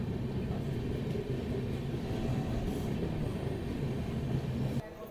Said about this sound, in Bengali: ট্রেন এখন এসে দাঁড়িয়েছে বর্ধমানে 1 নম্বর প্ল্যাটফর্মে